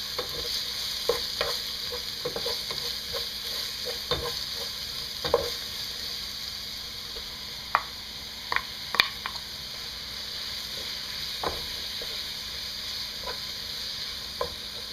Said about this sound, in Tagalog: Then, ilalagay na natin yung onions, at yung celery.